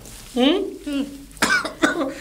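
A person coughs a few times, harsh and close, mixed with a bit of throaty vocalizing.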